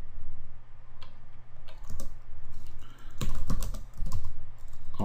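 Rapid clicking keystrokes on a computer keyboard come in uneven bursts, near and fairly quiet, with short pauses between runs and no voices.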